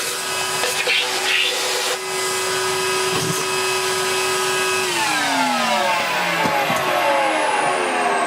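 A Henry vacuum cleaner fitted with a bent end runs loud and steady while cleaning out a Beko VRT6221P robot vacuum, its motor whine holding constant before the pitch drops as the nozzle's airflow changes, with occasional knocks of the wand.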